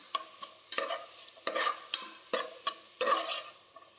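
A spoon stirring and mixing masala in a pan, with repeated scraping strokes in an uneven rhythm and a faint sizzle underneath, close-up and moderately quiet.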